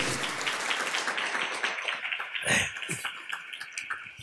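A church congregation at a marriage retreat claps for the king, a dense burst of applause that swells, peaks briefly, then thins out toward the end, with no speech over it.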